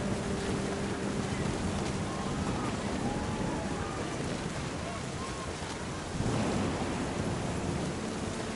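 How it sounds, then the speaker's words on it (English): Rain pours steadily in the video game What Remains of Edith Finch, with a low rumble of thunder rolling in near the end, a dense wash of noise beneath faint occasional sounds and no clear speech. "The thunder sounded much too close and full of angry power."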